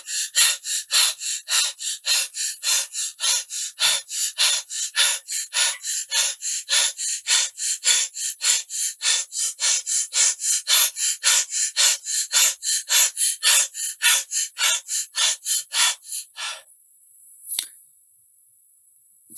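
Someone gasps and breathes heavily in a panic attack, about forty quick, sharp rasping breaths in a fast, steady rhythm, close and alone, ending with a short pause and one last breath.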